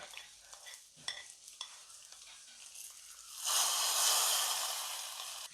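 Onion theeyal curry is stirred in a clay pot. Soft scraping and clinking stir strokes come first, then a brighter, louder sizzle rises and holds close to the microphone.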